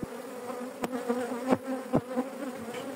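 Honeybees fly around a hive that has swarmed, giving a steady close buzzing drone with a few sharp knocks and clicks breaking through.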